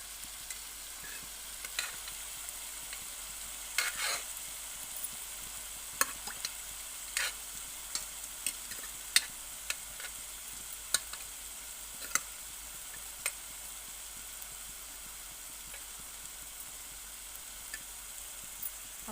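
Onions and ginger paste frying on low heat in a kadai, a soft steady sizzle with scattered small ticks and stirring clicks, quiet and continuous with no talking.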